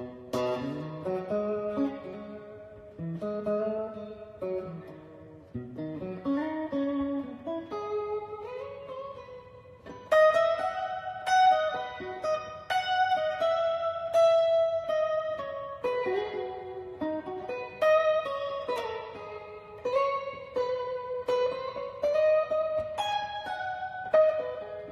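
Lone lead guitar soloing melodically so that its lines outline the harmony, with no chords played underneath; sustained, bending notes flow steadily at moderate volume throughout, with no talking.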